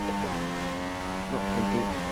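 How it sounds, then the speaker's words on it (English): A Formula 1 car engine in the F1 2016 racing game drops through gears, its harmonic whine stepping down in pitch with a steady, loud, continuous drone. "Oh, too many downshifts."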